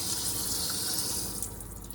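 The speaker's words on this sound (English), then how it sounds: "I'm gonna go ahead and shut the water off at the sink" Steady broadband rush of water pouring from a sink tap aboard a boat, continuous and close, easing slightly in level near the end.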